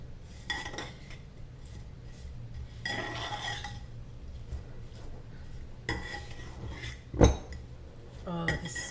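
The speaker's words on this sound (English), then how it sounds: "So stir that all together." A spoon scrapes and clinks against a pot while sweet and spicy sauce is stirred into keto burnt ends, intermittent metallic knocks and scrapes with one sharp clank near the end, fairly quiet.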